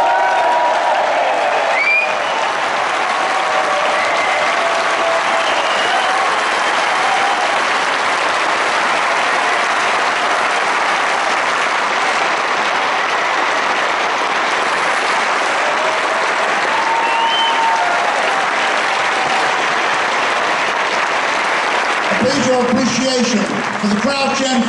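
A theatre audience at the Dominion Theatre in London applauding at a concert, loud continuous clapping with some cheers, and a voice speaking near the end.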